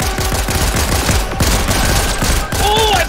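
Rapid bursts of gunfire in the Fortnite video game, dense repeated shots crackling loud and close over about three seconds, with a brief pause near the end and faint background tones.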